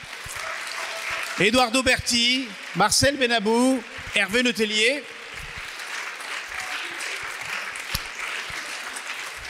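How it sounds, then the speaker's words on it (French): An audience applauds the guests at an Oulipo literary evening devoted to Boris Vian. Steady clapping fills the room while someone speaks over it, and the applause carries on alone once he stops. "je crois qu'on peut applaudir tout d'abord nos invités"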